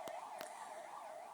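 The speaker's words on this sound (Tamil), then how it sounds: "ஆம்புலன்ஸ் அந்த பக்கம் போறாங்க." An ambulance siren wails continuously at a low level near a crowd at an outdoor election campaign rally, its rising and falling tone steady and somewhat distant, with a couple of short sharp knocks early on.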